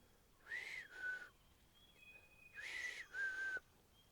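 A person whistles an imitation of an Australian parrot call outdoors in a forest: two pairs of short, bright rising notes separated by a pause, clear and close, with a faint thin tone between them.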